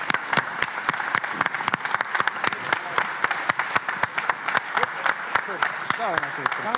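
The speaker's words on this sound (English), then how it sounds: "Don't stop applauding." A live audience bursts into sustained, dense applause at a closing event as volunteers are called to the stage, many hands clapping loudly and continuously with steady crackling claps and a voice talking faintly over it.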